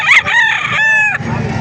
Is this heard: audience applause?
no